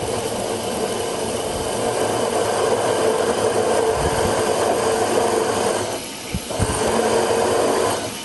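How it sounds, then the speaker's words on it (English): A centre drill boring into a metal workpiece on a machine, giving a steady, close mechanical whir that holds for several seconds, breaks briefly and then starts up again, with no talk. "So let's put that centre drilled hole in."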